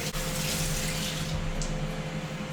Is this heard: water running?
yes